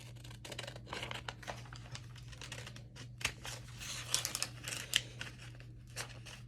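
Scissors snip through origami paper to trim away the excess, a run of close, crisp cuts and rustles with short pauses between them, no voices.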